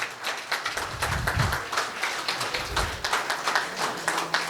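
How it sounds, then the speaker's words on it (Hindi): An audience claps together in a steady, fairly quiet round of applause that holds for several seconds with no talk over it. "जोरदार तालियां होना चाहिए सबके लिए।"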